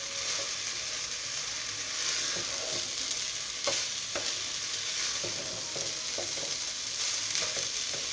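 Broken rice frying in a pan gives a steady, close hiss of sizzling, with light scraping strokes from stirring scattered through it and no talking.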